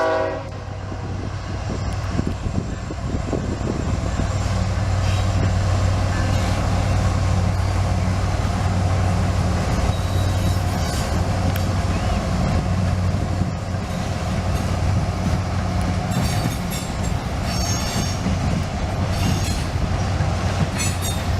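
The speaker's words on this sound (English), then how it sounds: "a northbound coal drag with a shiny new CSX Tier 4 GEVO leading" A northbound CSX coal train led by a Tier 4 GEVO locomotive rumbles past beside a chain link fence, a loud continuous roar of diesel and rolling cars with a long horn blast and metallic wheel squeal.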